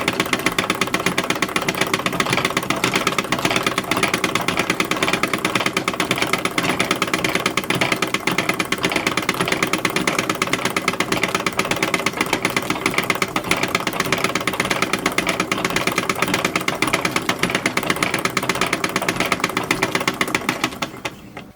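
Sewing machine stitching a facing onto a cotton print dress sleeve, a rapid continuous mechanical chatter held steadily and close for about twenty seconds, stopping just at the end.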